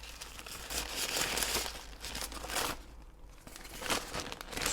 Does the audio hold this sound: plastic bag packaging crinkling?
yes